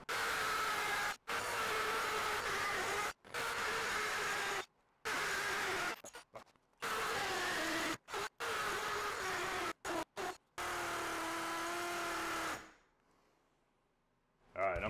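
A DCK cordless hammer drill driving a hole saw through material, heard as a steady loud whirring grind broken by repeated short pauses between bursts, then falling quiet near the end.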